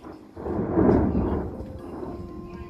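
Thunder rumbles during a rainy-day storm with a tornado watch, a single low, rolling roll swelling then fading over a couple of seconds, moderately distant and fairly faint, with no voices.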